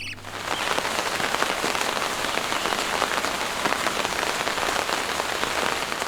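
Steady rain pours down on a surface in the Balkans, a dense, even hiss of drops with no breaks, close and moderately loud throughout.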